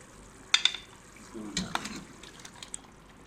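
Marinated beef goes into a pot of frying masala, giving a short burst of sizzling and stirring with a few clinks. It is fairly quiet and fades into soft frying.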